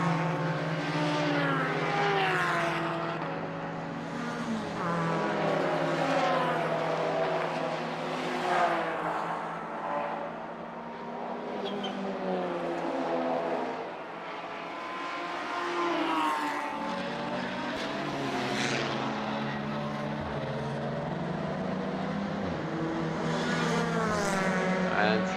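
Touring race cars, including a BMW and a Seat, at the 2023 DeWALT Grand Prix of the Baltic Touring Car Championship. Engines whine and rise and fall in pitch continuously, loud and sustained throughout.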